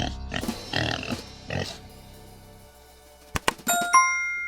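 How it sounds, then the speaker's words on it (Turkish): Cartoon pig in a children's animal shadow-guessing game gives a few grunting oinks, followed by a sharp clang and a bright ringing chime that fades out. "Sıradaki hayvan domuz."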